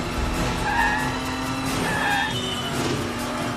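Car tires skid and squeal loudly through a live-filmed movie car chase across Nice and Paris, a continuous screech with rising squeals over a roaring engine, no voices.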